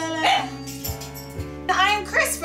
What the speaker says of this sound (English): you're gonna hear a dog in the background the whole time